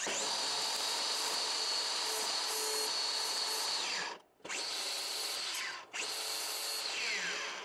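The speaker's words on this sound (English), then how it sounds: "Go ahead and grind all those off," An angle grinder with a flap disc grinds leftover sprue nubs off steel can crusher kit parts, a loud continuous high whine that briefly drops out twice as the tool lifts off the metal.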